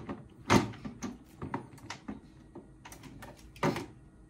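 Metal wire door of a hard plastic pet carrier being handled, giving several close clicks and rattling knocks, two sharper clacks standing out among lighter taps, with no talk over it.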